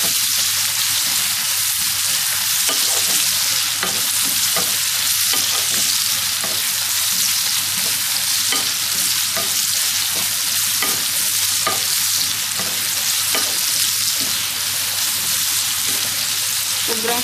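Onions browning in oil for an Indian crab masala hiss in a loud, continuous sizzle for a long stretch, with faint stirring clicks scattered throughout and no talk.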